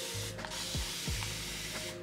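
A spray bottle for houseplants releases a few quick hissing mists mixed with soft mechanical clicks of the trigger, close and fairly quiet, with no talking.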